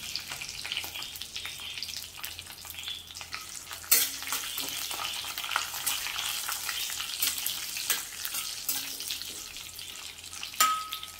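Cashews fry in ghee with a constant close sizzle, with occasional stirring scrapes and sharp clicks of a utensil and no talking throughout.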